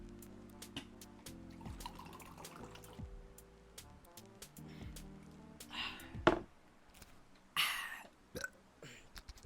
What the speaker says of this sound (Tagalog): Inom lang ng tubig.